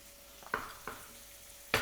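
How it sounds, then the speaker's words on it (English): Crackling frying sizzle with a few sharp pops and clinks, fairly quiet and close, no talking. "Hopefully you can hear our bacon sizzling in the background."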